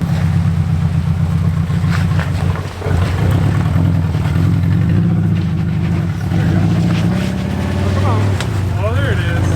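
A highly modified Subaru Outback engine drones and revs loudly as it climbs a snowy obstacle, pitch rising and falling while a wheel spins, with people talking over it.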